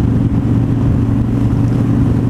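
A Victory Highball motorcycle fitted with a Bassani side-out exhaust and a power commander idles steadily, its deep, even engine rumble close and loud for the whole stretch, with no talking.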